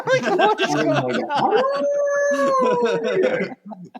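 A voiced cartoon howl from X-Men Evolution, with Mystique disguised as Wolverine letting out a long, wavering wolf-like cry after a few short vocal sounds, imitated by a voice actor.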